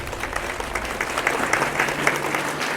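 Applause rolls through the hall at a school ceremony where certificates are awarded for math and physics results, a steady patter of many hands clapping together.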